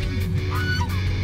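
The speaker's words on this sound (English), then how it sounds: "That's a mallard, man." A mallard duck gives a short, loud, nasal quacking call close by at a Six Flags amusement park, over a low background hum.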